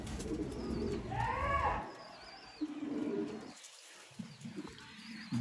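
Sialkoti pigeons coo in a few soft, rolling phrases near the start, followed by lower, rumbling coos and faint flutter and chirps amid background noise.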